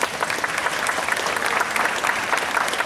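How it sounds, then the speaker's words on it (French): An audience at a children's rights event gives steady, even applause for a UNICEF speaker, a dense wash of many hands clapping without pause. "On peut l'applaudir."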